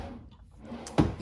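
A deep drawer in an RV kitchen slide-out sliding shut, ending in one short solid knock after a brief quiet rustle.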